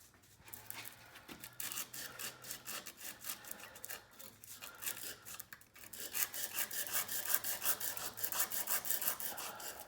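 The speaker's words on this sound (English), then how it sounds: "going to flatten the bottom here with some 100 grit, and then I'll use progressively finer grits to get this nice and smooth" A steel chisel back rubbed flat on 100-grit wet-dry sandpaper, giving steady, close scratchy strokes in a continuous rhythm that grows a little louder and quicker toward the end, with no voices.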